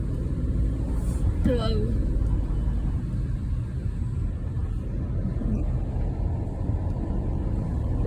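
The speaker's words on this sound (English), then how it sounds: "Driving in Crete." A car drives along a road in Crete, a constant low engine and road rumble heard from inside, with a voice briefly exclaiming over it.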